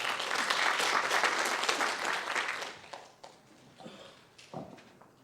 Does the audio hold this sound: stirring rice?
no